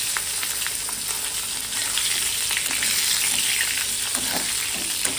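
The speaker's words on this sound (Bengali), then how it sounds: "বেগুনগুলোকে ফার্স্টে ভেজে নেবে।" Eggplant pieces frying in hot oil, a dense, steady sizzle and crackle heard close up with faint stirring, no talking over it.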